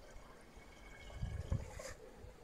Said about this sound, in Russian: сначала мы нальем литров, я думаю, 6 сюда примерно водички